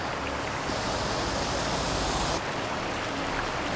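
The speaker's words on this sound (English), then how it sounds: "And it sounds like the water's rushing pretty good." A river rushes far down an icy bank, a steady, dense broadband roar of flowing water that fills the whole stretch evenly, with no voices.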